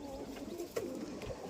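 Single pigeons housed in a loft coo softly in low, throaty murmurs at moderate distance against a faint constant background.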